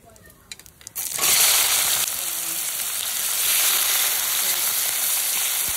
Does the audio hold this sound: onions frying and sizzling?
yes